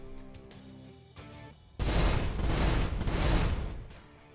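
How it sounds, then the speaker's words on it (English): Submachine gun fire in the jungle tactics game Kriegsfront Tactics: a few quiet mechanical clicks, then a sudden dense, loud burst of rapid shots that rattles on for about two and a half seconds. "we'll open up on this guy with our submachine gun"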